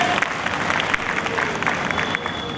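An audience at a Bhim Sankalp Diwas gathering at the Dr. Ambedkar memorial hall breaks into applause. Dense, continuous clapping from many hands fills the clip at a steady level, with faint crowd murmur beneath.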